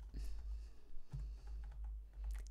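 Soft clicks of a computer keyboard as Korean date format codes are typed for cell formatting, quiet irregular keystrokes close by over a low background hum.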